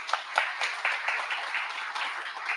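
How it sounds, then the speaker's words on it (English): At an awards ceremony honoring a 40 Under 40 class, an audience claps in fairly faint, continuous applause with rapid, overlapping hand claps and no talking. "So give yourself a round of applause."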